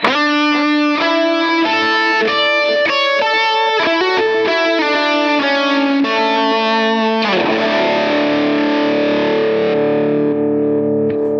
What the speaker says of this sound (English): and your lead sound when you stack the EQ in front.